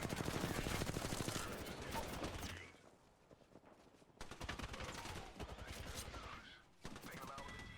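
Rapid automatic gunfire from Apex Legends rattles in dense, loud bursts, pausing briefly before the shooting resumes with sustained sprays of shots.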